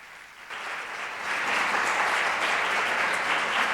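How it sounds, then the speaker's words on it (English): A crowd gives a round of applause for a speaker, Hannah, after her talk; clapping starts lighter, then swells into a full, even patter that holds steadily to the end. "I would like to give you a big round of applause"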